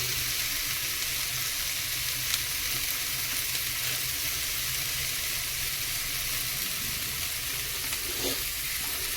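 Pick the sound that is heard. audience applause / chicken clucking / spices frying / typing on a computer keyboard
spices frying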